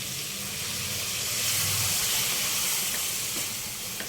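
Water poured into a hot pan of paneer mixed vegetable curry with cooked masala, giving a steady quiet steamy hiss that swells briefly mid-way and then settles, no talking.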